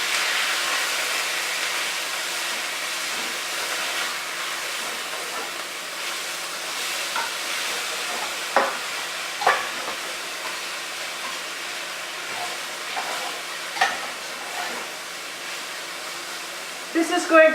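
Ground beef browning in a pot for a meaty family-style chili gives a steady broadband sizzle and hiss, with a few sharp scrapes and knocks as the meat is broken up; the sizzle runs continuously throughout.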